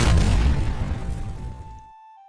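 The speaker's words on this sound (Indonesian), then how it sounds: "Ledakan yang besar terjadi akibat serangan Gu Qingfeng." A big fire-attack explosion in an animated story booms loud and close, its deep rumbling roar decaying over about two seconds into silence, with no voices heard.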